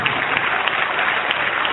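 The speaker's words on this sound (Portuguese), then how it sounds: "faça todo o possível para dar a melhor salva de palmas para a palavra de Deus" A church congregation claps together in a dense, steady wash of applause filling the hall, with no voices over it.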